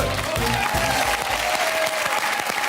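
Applause from the studio audience of a French television comedy show, a thick, unbroken wash of clapping from a sizeable crowd, loud and close, with a low voice murmuring briefly near the start.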